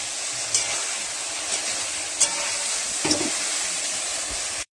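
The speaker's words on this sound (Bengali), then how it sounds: "দেখতেই আলুগুলো দিয়ে দিয়েছি, ভালো করে কষতে থাকবো এইভাবে।" Potatoes tossed into spice paste fry with a dense, continuous sizzle, and a few faint stirring knocks rise briefly above the steady hiss.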